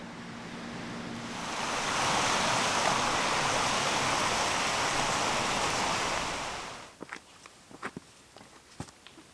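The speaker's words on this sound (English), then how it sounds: "Oh, there's a little waterfall right there." Small waterfall along a mountain hiking trail, a steady broadband rush of falling water that swells and holds, then cuts off as footsteps crunch along the path.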